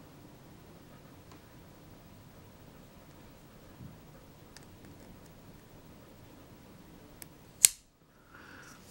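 A Benchmade 470 Emissary folding knife blade flicks open off its thumb stud with one sharp, close snap near the end, set against faint room hiss and a few tiny clicks.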